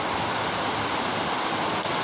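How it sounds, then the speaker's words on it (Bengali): Heavy rain pours steadily onto a garden and a tin-roofed shed behind a house during days of nonstop downpour, a continuous dense hiss with no breaks and no voices. "দেখো যে পেছনে বাগানের দিকটা দেখো কীরকম বৃষ্টি হচ্ছে।"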